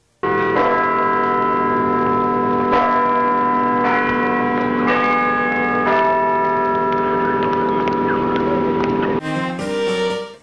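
Two church bells, Olympe and Marie-Antoinette, ring out at the church in Plottes, loud and near, their struck tones overlapping with long sustained hums, before a brief burst of different sound at the very end.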